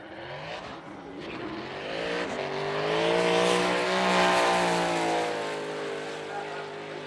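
A BMW F22 M2 drift car on a qualifying run at Fuji International Speedway, its engine screaming and rising through revs with tire squeal, swelling louder mid-run then easing off.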